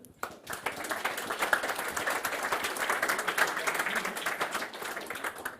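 Audience applause at a startup pitch competition in Germany, steady dense clapping for about five seconds after a brief pause, with some voices mixed in.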